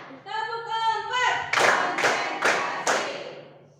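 A teacher's counted clapping routine in a classroom: a voice speaks first, then four sharp, evenly spaced hand claps ring out close and loud.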